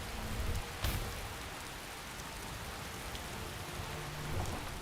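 Steady stormy rain pours in Skyrim, a broad constant hiss with a short crack of thunder near the start and low rumbles underneath, no talking.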